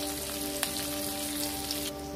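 Asafoetida and whole spices crackle in hot oil while a bhindi sabzi is being cooked, a soft steady sizzle with a few small pops, close and fairly quiet, no talking.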